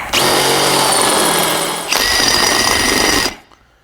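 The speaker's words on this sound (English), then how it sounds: "very important when we're drilling, we want to start obviously much smaller than we intend to go" A power drill bores a hole in a Jeep differential cover in a garage, running loud and steady with a continuous high whine, one brief dip midway, then stopping abruptly.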